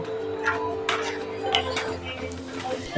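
Quiet, steady scraping and light metallic taps of a spoon stirring khandvi batter in a wok over low heat, with a low hum of background noise.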